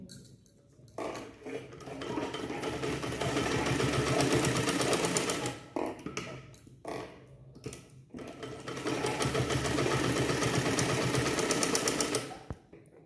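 A sewing machine stitches a blouse collar up close, running in long steady bursts with brief pauses between seams.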